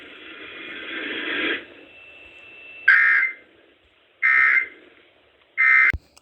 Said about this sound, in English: I didn't know WPLE 1570 have an emergency EAS thing.